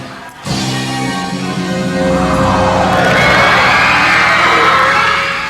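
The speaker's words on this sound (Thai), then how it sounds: "บริวารผีของนางตานีครับออกมาถึงเรียกเสียงกรี๊ดสนั่นวันไหวเป็นห้องส่งครับ" A television studio audience at a Thai game show screams loudly as costumed ghosts emerge, a dense sustained wall of shrieking and cheering that builds and stays loud.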